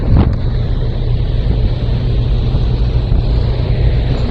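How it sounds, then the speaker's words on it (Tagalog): A loud, steady engine drone rumbles continuously, low and droning, the motor of the passenger ship MV St. Michael the Archangel heard from on board. "Yan po ang makina."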